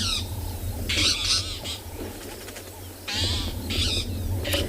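A magpie shrike calls on a sunset safari in the South African bush, giving repeated loud, harsh bursts in two groups over a low background rumble.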